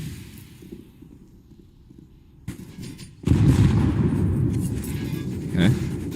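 Grenades going off in Counter-Strike, with a low rumbling blast that swells into a loud, sustained explosive roar over steady background game noise.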